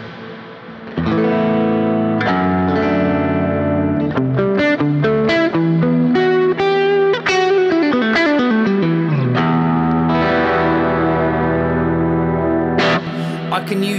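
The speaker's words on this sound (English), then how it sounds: "I can use the reverb that's coming from that pedal." An electric guitar played through a reverb pedal in a Boss Katana amp's effects loop plays sustained chords and a descending line with heavy reverb and distortion, notes ringing and blending into a washy tail.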